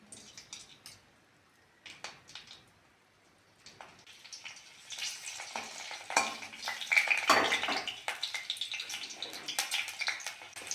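Green chilies drop into hot mustard oil in a pan on a clay stove. After a few quiet seconds of light clicks, a loud crackling sizzle bursts up and keeps spitting and popping close by.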